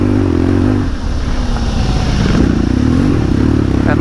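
A Harley-Davidson Pan America adventure motorcycle climbs a rough, rocky off-road trail, its engine droning loud and close with a rising note and gravel clattering and scraping beneath, with no voices.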